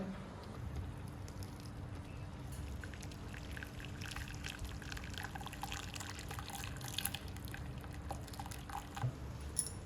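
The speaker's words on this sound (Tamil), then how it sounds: "இப்போ வந்து அம்மா இதை கீழே இறக்கி வச்சு தண்ணியை வடிச்சிட்டு நல்லா கடைஞ்சி கொடுங்க" Water is drained from a pot of cooked food in a home kitchen, a steady wash of pouring and trickling liquid over low background noise, with a few brief clinks near the end.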